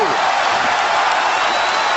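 Loud, dense roar of an arena crowd during the Poirier vs Pettis MMA fight, a steady wash of cheering and whooping that fills the whole two seconds without letting up.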